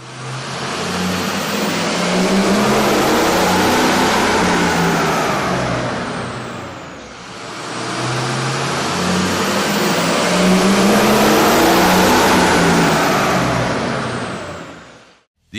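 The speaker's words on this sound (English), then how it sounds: "With the air intake installed, we ran the vehicle on the dyno to test the sound comparison versus the stock intake." A Ford Power Stroke 6.0L diesel truck fitted with a cold air intake runs on a dyno, its loud engine droning steadily, dipping briefly midway before climbing back up and holding a sustained roar.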